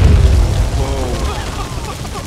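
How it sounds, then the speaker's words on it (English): An explosion in the survival video game Conan Exiles: a heavy low boom bursts loudly at the start and rumbles away, while excited voices with tonal shouts rise over the fading blast. "Explosion!"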